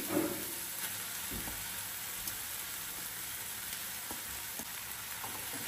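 Beetroot and tomato stir-fry in a pan with a steady sizzle, a loud continuous frying hiss broken by occasional scrapes and clicks from stirring.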